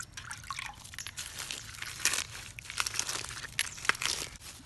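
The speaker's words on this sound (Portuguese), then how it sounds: "Em seguida, jogue água em cada camada, firmando para baixo." Water is poured over layers of compost material of soil, banana peels and eggshells, which are pressed down, making soft close trickling and wet crinkling, squishing sounds with a few sharper crunches.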